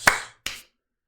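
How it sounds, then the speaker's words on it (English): Two separate sharp claps from a single pair of hands, close and clear, each one decaying quickly with a short gap between them, no talk alongside. "Finally, round of applause."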